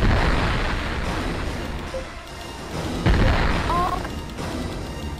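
Barrage attack in the Infinite Space DS space battle game, a run of deep booming explosions and crashing bursts rolling over each other, with a sharper blast near the end and a short electronic blip.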